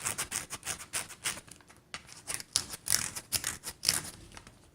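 Fingernail scratching the textured vertical ridges beside the collar on a Chinese banknote, a close, dry run of short rasping scrapes and rubs in quick repeated strokes, no talking.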